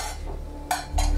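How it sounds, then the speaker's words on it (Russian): An empty metal cooking pot clanks twice in quick succession, sharp bright hits standing out loud and close over a low background hum. "Поехали готовить пустую кастрюлю, да, судя по звуку."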